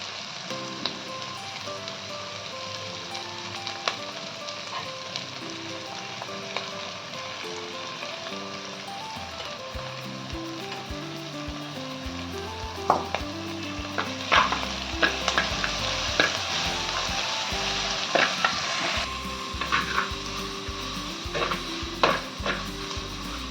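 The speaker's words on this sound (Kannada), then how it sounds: "ಸ್ವಲ್ಪ ತುಪ್ಪ ಹಾಕ್ತೇನೆ." Ghee heating in a cooking pan for clam pulao, a steady crackling sizzle joined midway by knocks and stirring clatter of a utensil against the pan, loud and close with no talk.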